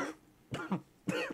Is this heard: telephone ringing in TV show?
no